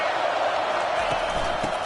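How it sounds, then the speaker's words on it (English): A dense football stadium crowd at a Penn State versus Ole Miss game roars steadily for the defense, a loud continuous wash of massed voices with a few faint thumps underneath. "It is getting loud as this crowd tries to help its defense"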